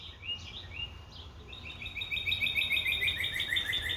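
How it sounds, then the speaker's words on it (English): A cardinal chirps repeatedly outdoors, a steady run of bright, high tweets that grows denser and louder through the second half over a low background rumble. "We got a cardinal over here."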